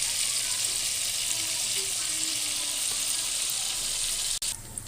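Beef pieces fry in a pan for bhuna gosht, giving a loud, steady hiss and crackle that holds unbroken until a sharp knock near the end.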